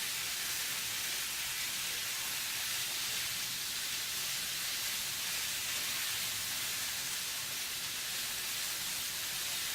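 Green onions sizzling in a pan while cooking wild pheasant white chili: a steady, even frying hiss throughout, close and unbroken, with no talking.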